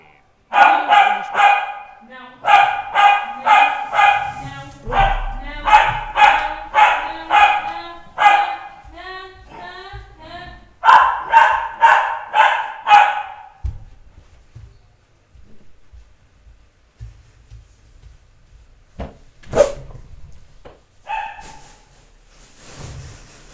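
A dog barks in rapid loud bursts, clustered volleys of sharp barks close to the microphone, then quieter scattered yips and a few isolated sounds after the barking stops.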